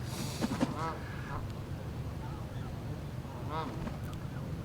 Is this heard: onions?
no